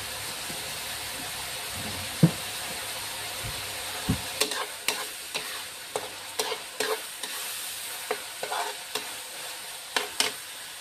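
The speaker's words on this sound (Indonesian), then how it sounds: "kita tumis sampai dia matang" Beef sautéing in a pan, with a steady sizzling hiss and repeated sharp spatula scrapes and taps as the meat is stirred, close and clear with no talking.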